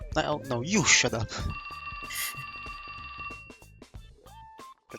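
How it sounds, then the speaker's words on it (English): A cell phone in the game 428 Shibuya Scramble rings with an old landline-style bell tone, a steady trilling ring sustained for a couple of seconds over dialogue and talking voices. "why does his cell phone make that sound like it's a fucking landline?"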